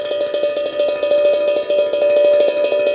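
Rapid, even metallic strumming on a tongue drum, a steady ringing shimmer of notes with no accents, close and bright.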